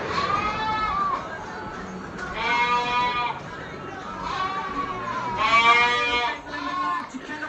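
Several sheep bleat repeatedly in a farm field, loud wavering cries close by in overlapping bursts, with a person talking at times.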